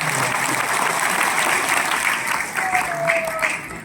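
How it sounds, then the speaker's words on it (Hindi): Steady, dense clapping from an audience at a team gathering, called for in honour of a speaker's parents, continuing at full strength for several seconds with a faint tonal whine near the end. "एक बार जोरदार ताली मेरे माता पिता"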